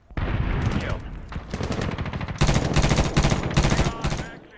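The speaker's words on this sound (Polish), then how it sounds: "Tu nie wale full auto, tylko seriami." Gunfire in Medal of Honor, a video game, as rifle bursts crack close and loud in several rapid volleys, with a short pause between groups of shots.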